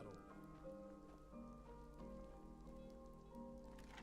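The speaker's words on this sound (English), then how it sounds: "I don't mind a bit of snow, but this rain? No, not for me." Rain falling in a modded Skyrim game, a soft steady patter under a low sustained musical drone, quiet and continuous throughout.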